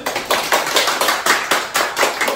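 Applause from a small group welcoming a guest creator at the start of a guitar-building session, a dense patter of hand claps swelling in repeated bursts, close and moderately loud with no talking.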